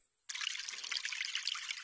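Strawberries being poured back onto a field in the Harvest VR video game make a steady, bright, trickling rush that starts suddenly after a brief silence and carries on evenly to the end.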